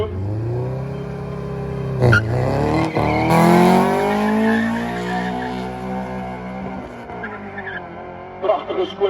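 A Honda Civic with a B20 VTEC engine launches at a drag race, revving hard with a climbing, sweeping engine howl and brief bursts of tire noise, loud and close, fading as the car pulls away.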